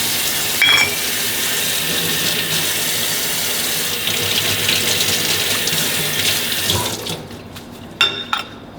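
Tap water runs steadily into a sink while a café barista rinses a part during end-of-day cleanup, a continuous close hiss that eases near the end with a few clinks.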